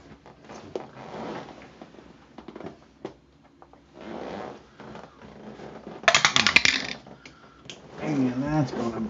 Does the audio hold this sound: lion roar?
no